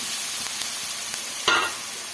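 Sheep blood fry with onions cooking in a pan, a dense continuous sizzle close by with a brief louder stirring burst near the end and no voices.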